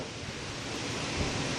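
Wild summer wind drives rain outdoors, a dense unbroken rushing hiss that holds steady and close throughout, with no voices heard.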